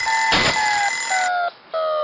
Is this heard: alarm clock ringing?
yes